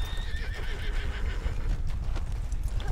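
A horse in Fallout 76 whinnies over clopping hooves, the sound loud and close with no talk over it.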